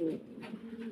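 Pigeons coo in a farm cage, a soft low throaty call repeating close by and fairly quiet.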